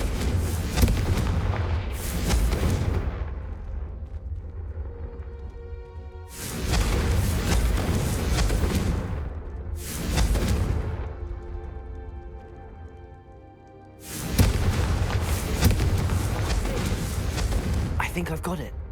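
Confringo fire spells explode in the video game Hogwarts Legacy. Four loud, booming blasts each swell and fade over a couple of seconds, with quieter tonal game sound in between.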